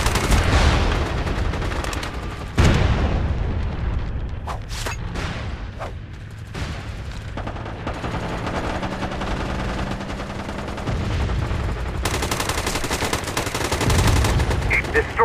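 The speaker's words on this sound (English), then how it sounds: "Got incoming artillery fire." Heavy gunfire and explosions fill a battle in the MAG shooter game during an Acquisition match, with dense machine-gun rattle, booming blasts and incoming artillery rumbling almost continuously and loudly, punctuated by sharp single shots.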